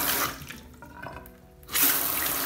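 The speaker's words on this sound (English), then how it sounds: "We can take the faucet, put it there, turn it on here." Salon backwash unit's shampoo bowl faucet turned on, water gushing steadily into the sink, with a brief lull mid-stream before the flow surges back louder and continues.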